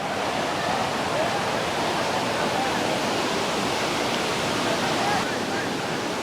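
Monsoon waterfall cascading down rocky steps at Lonavala, a dense, continuous roar of rushing water, loud and steady throughout with no pauses.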